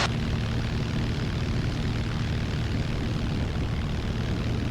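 A single-engine propeller airplane roars steadily at full power while climbing out, with a loud, continuous near engine drone and a deep prop hum that stays constant throughout.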